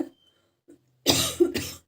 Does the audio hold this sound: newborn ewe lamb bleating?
no